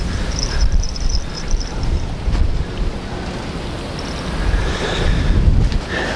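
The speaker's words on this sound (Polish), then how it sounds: "Przy tym silnym wietrze." Strong wind blows across open water during fishing from a boat, a constant rushing roar with gusts and microphone buffeting, loud and steady with faint higher tones, no speech.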